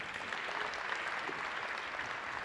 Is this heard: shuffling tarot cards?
no